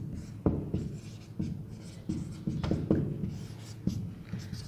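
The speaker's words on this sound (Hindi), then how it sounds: "या फिर हम यहाँ लिख देते हैं" Pen or chalk writing by hand during a lesson, heard as a series of scratchy strokes and taps at an irregular rhythm, close and fairly faint, with no talk over it.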